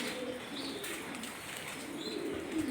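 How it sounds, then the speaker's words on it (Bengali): Pigeons in a loft holding many breeds and over a hundred pairs give soft, low coos and a few chirps, faint and somewhat distant against a quiet background. "অনেক রকমের কবুতর আছে"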